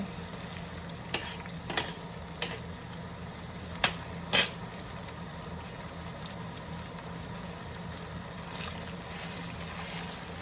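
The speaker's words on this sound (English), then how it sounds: "Letting this simmer up really good." Cheeseburger pie filling simmers in a pan, a low, even bubbling hiss running throughout, with a few sharp clinks and taps of a utensil early on.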